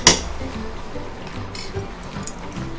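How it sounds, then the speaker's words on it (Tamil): A single bright metal spoon clink against a pot as ghee is poured over mutton biryani, followed by faint kitchen clatter and quiet background noise. "ஒரு ஸ்பூன் எடுத்து வச்ச நெய் ஊற்றிப்போம்."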